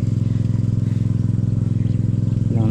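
An engine-driven water pump runs steadily with PVC suction pipe attached, a close, loud, rhythmic mechanical chugging with fast regular pulses throughout.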